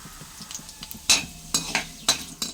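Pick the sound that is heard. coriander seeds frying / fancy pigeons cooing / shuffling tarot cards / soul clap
coriander seeds frying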